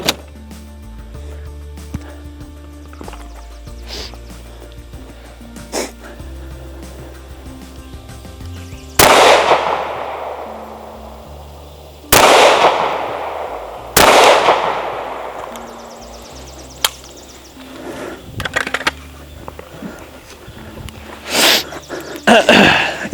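Pistol shots from a handgun fitted with an Olight Osight red dot, several sharp loud cracks spaced a few seconds apart at an outdoor range, each with a short ringing tail, with quieter handling noise between.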